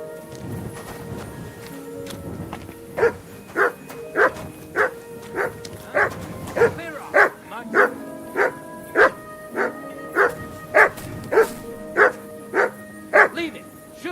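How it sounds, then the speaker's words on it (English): A dog in the medieval video game Kingdom Come Deliverance 2 barks loudly and close, repeating more than a dozen sharp barks in a steady rhythm, with faint hoof clatter in the background. "Sit and bark."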